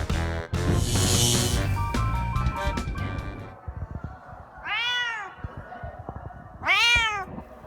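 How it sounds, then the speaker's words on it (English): An Egyptian Mau cat gives two distinct, clear meows close by, each rising then falling, following a stretch of louder mixed background noise, with no talking. "She's an Egyptian Mau, and they are one of the fastest domesticated cats."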